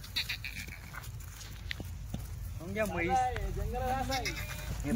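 A milk-giving dairy buffalo at a livestock sale gives a drawn-out lowing call mid-clip, heard over steady outdoor noise with people talking around it.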